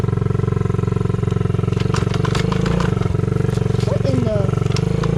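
A friend's mini bike engine revs hard and close during a wheelie, a buzzing harmonic drone that climbs briefly in pitch and then holds, with light rattling over it.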